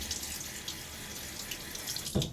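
Water runs steadily from a tap to rinse a Gillette Rocket safety razor, a constant close hiss and splash ending in a brief clatter.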